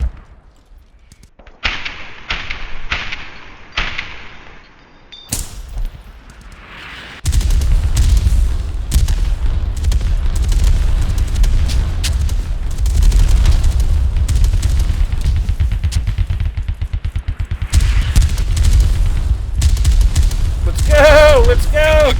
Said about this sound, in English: There's the barrage.